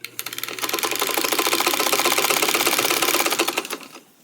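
A sewing machine runs steadily while chain piecing quilt squares, its rapid rhythmic needle clatter rising after a few starting stitches, holding for about three seconds, then slowing to a stop, close and alone.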